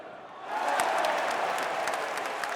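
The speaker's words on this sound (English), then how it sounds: "The crowd went crazy with excitement" A football stadium crowd during a league match cheers and applauds in a steady, dense roar that swells after a quiet start and holds loud throughout.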